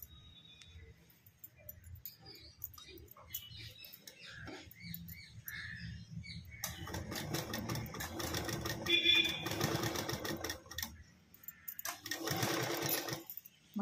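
A sewing machine stitching a tuck on a princess-cut blouse runs in steady rattling bursts through the second half, after a quieter stretch with a voice talking and light handling sounds.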